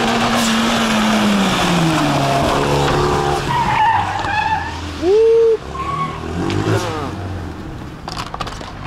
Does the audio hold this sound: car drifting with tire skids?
yes